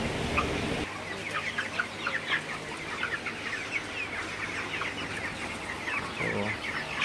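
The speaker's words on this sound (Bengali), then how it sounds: "আমার ব্রয়লার মুরগি এখানে সবগুলাই রেডি হয়ে গেছে" Broiler chickens clucking on a farm, a steady mass of overlapping clucks and chirps from many birds, moderately close, with a low hum underneath.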